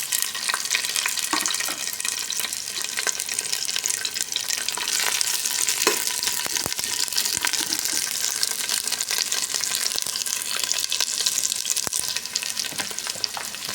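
Garlic and onion sautéing in hot oil for a clam dish, a bright continuous sizzle with scattered crackles and light stirring, near and steady with no voices.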